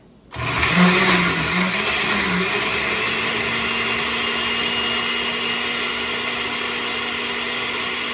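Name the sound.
blender blending food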